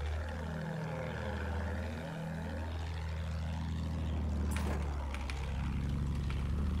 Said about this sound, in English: there's a plane also